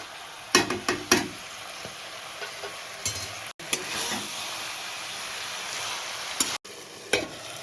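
Tangra fish with onion stalks sizzling and frying in a pan, a steady close hiss broken by a few brief scraping stirs and short pauses.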